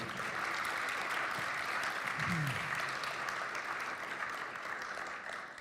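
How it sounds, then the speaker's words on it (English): An audience at an atheist–Christian debate claps in sustained, even applause for the two participants, with a brief voice surfacing partway through. "Why don't we give both of these gentlemen a big round of applause."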